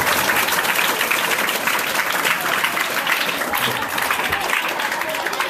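An audience at a school quiz activity bursts into loud, sustained clapping, dense and continuous throughout, filling the room with steady applause and no clear voice on top.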